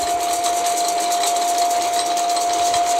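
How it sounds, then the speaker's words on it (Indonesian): A machine engine runs in the video game Very Little Nightmares, giving a loud, steady mechanical drone with a constant pitched hum and no talk. "Mesinnya dihidup guys"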